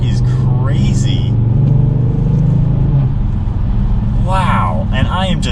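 2022 Kia Stinger GT2 AWD accelerating hard up to 60 mph, a steady, close engine drone rising gradually in pitch inside the cabin, with an excited voice talking over it.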